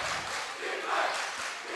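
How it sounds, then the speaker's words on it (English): Pep squad cheering for Willow Glen at a high school basketball final, a steady, moderately distant crowd roar with shouts rising and falling in a gym. "great cheering already from the pep squad of Willow Glen"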